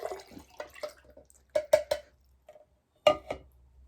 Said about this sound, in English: I'm going to carefully fill my cup.